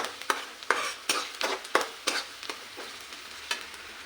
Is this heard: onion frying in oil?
yes